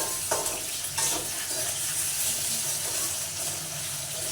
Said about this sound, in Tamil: உருளைக்கிழங்கையும் கேரட்டையும் நாங்கள் பொறிச்சு அள்ள போகிறோம்